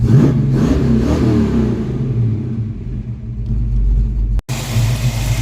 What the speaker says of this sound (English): But old Reliable's back on, running like a top.